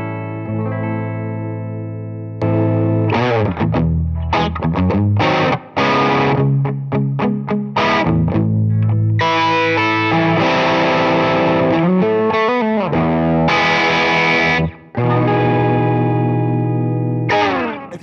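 Electric guitar runs through an Expandora drive distortion pedal, loud, close and crunchy, alternating chugging palm-muted riffs with sustained overdriven chords and brief gaps, with no talking.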